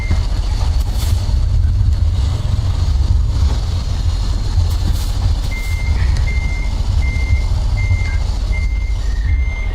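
A long truck maneuvers with a loud, constant low engine rumble throughout; partway through, a high reversing alarm starts beeping in an even, repeated rhythm, with no voices.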